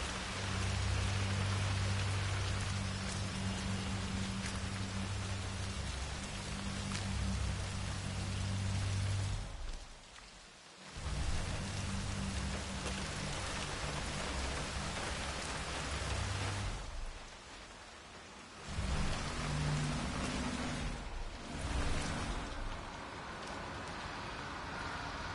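Steady rain pours in a video game, a continuous broadband hiss with a low rumble beneath it, broken by a few brief quieter gaps before the downpour resumes.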